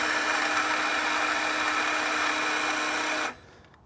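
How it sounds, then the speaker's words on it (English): A compact Vevor electric car jack motor whirs at a steady, fairly loud pitch for about three seconds, then cuts off abruptly into near silence. "I'm really impressed with this little electric jack"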